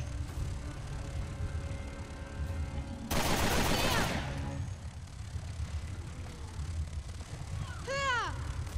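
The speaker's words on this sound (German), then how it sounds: "Barry, schieß auf das Ding vor mir!" A burst of rapid gunfire in the survival horror game Resident Evil Revelations 2 rattles for about a second midway, loud over a low rumbling ambience, followed later by short whooping tonal sweeps.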